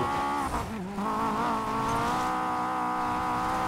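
Car in the Need for Speed Payback racing game drifting, with a loud sustained engine drone and tire squeal running continuously, briefly dipping near the start, close and steady throughout.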